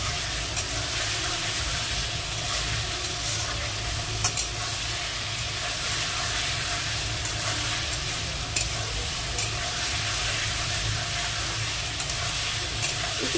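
Spice mix with turmeric frying in a pan for a water spinach and potato chochori, a steady close sizzle with light stirring scrapes throughout, no talking.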